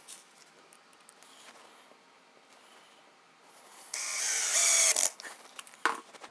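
A screw driven into a drawer through a pocket-hole jig, with a power driver whirring loudly for about a second after soft handling clicks and rattles, followed by a couple of brief knocks.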